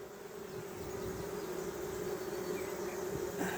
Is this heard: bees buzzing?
yes